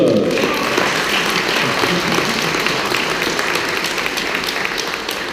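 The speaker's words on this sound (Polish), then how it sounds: "bardzo bym Państwa prosił o wielkie, wielkie brawa, takie ciepłe brawa dla naszych gospodarzy" An audience at a regional experience-sharing event gives warm applause for the hosts from the Radom branch: dense, sustained clapping close by that slowly fades over several seconds.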